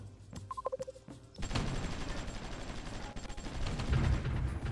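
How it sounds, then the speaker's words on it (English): Artillery fire in a strategy video game comes through as a dense, continuous barrage of booms and crackling shots, starting with a few separate bursts and building into steady gunfire. "Artillery should be firing from there as well. Yep, they are."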